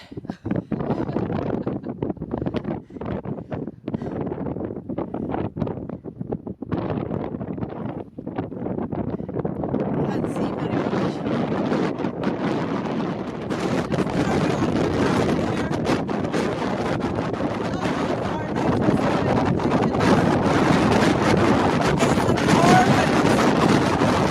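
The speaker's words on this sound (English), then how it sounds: "the wind became so strong that my voice was totally lost" Strong mountain wind in blizzard conditions while snowshoeing at Meall Tairneachan, Scotland, roaring and buffeting the microphone. It swells steadily louder over the clip, with a voice partly lost beneath it.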